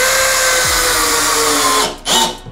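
A Bosch GSB 185-LI cordless drill driver spins loud and close as it drives a hex screw, a steady whine for about two seconds that stops with a short final burst.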